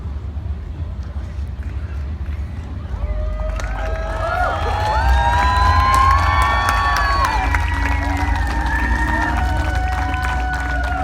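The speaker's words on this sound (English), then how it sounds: "I'm going to hear some applause when I get this baby out here." Live audience cheering and shouting builds over steady crowd noise after a performer's sword-swallowing stunt, loud and sustained with whoops and voices, with little distinct clapping.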